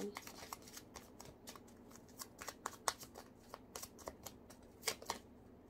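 Tarot cards are shuffled and drawn in a quiet room, making a string of crisp, close card slaps and flicks at an irregular rhythm. A faint voice talks underneath.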